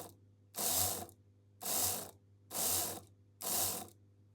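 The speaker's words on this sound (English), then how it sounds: "I'm just going to test the motor first by giving it some power" Vintage Piko model railway locomotive motor and gearbox run on 12 volts DC in four short bursts, each a whirring, ratcheting mechanical buzz about half a second long, separated by brief pauses under a steady low hum.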